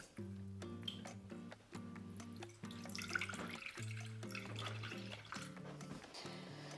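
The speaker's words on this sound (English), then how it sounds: "we're gonna pour this right into our saucepan" Lemon juice pours into a saucepan in a steady, gurgling stream with shifting pitched tones as the liquid fills the pan, close and continuous for several seconds.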